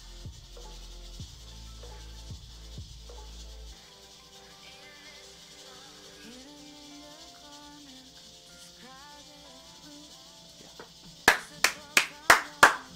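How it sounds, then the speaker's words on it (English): A person sitting at a chess game claps their hands in a quick burst of about six sharp, loud claps, rising slightly in strength, after a stretch of quiet background with faint talk. "Yes, I'm clapping to myself."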